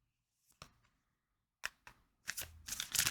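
Tarot cards are shuffled by hand in a few quiet, brief riffles and flicks, growing into a denser papery rustle at the end.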